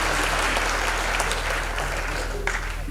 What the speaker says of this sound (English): I think this choir deserves another round of applause